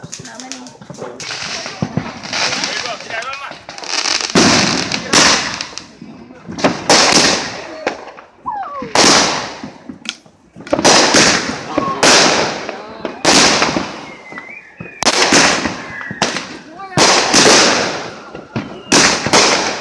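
A 30-shot "Vegas Trip" firework cake going off outdoors, a long series of loud launching thumps and crackling bursts in uneven rhythm, with people talking faintly between shots.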